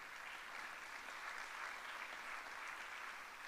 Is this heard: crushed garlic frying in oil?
no